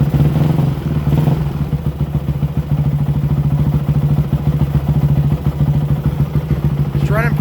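A cold motorcycle engine idles steadily at close range with a fast, even, throbbing putter, and a brief scrape lands near the end.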